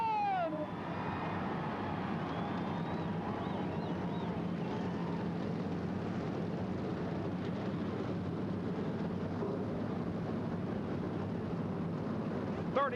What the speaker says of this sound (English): Two cars roar to life